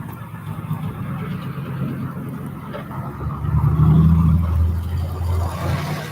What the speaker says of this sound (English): That car's got a loud exhaust.